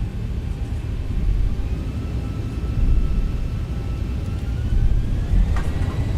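An airliner taxis on the runway in the Zibomod flight simulator, giving a steady, close, low engine rumble that swells and eases slightly throughout, with faint higher whines above it and no talking.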